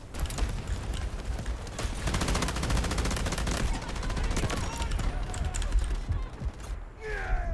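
M249 light machine gun fired in long rapid bursts in the game Delta Force, a dense close rattle of shots over mechanical clatter, with brief game voices near the end.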